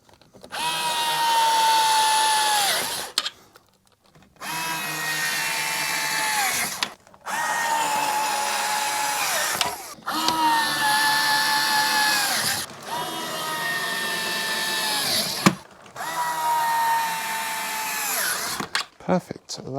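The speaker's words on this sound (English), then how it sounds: "let's put the little screws in" A power drill drives small screws into a Velux roof window blind frame in five loud, close bursts of whirring, each lasting about two to three seconds, separated by short pauses.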